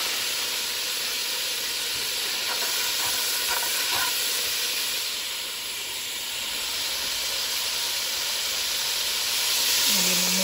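Fennel seeds sizzle in hot oil with a bright, steady hiss that fills the sound throughout, close and fairly loud, with a few faint clinks partway through.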